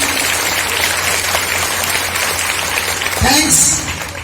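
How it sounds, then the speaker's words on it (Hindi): Children at an Independence Day school gathering applaud in a sustained, moderately loud clatter of clapping under and around a voice. "एक बार तालियां चाहूंगा शास्त्री जी के नाम की"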